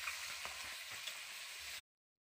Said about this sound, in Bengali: তো আমি উল্টে পাল্টে ভেজে নিচ্ছি।